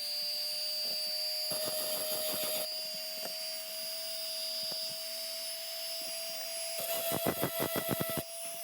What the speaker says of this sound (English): take my Dremel tool again, pick the spot where my bail is going to be, and rough it up a little bit